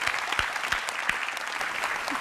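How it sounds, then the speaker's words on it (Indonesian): Audience applause for the comedian Raditya Dika, a brief, even patter of many hands clapping at moderate volume with no talk over it. "Lucu banget tepuk tangan untuk Raditya Dika."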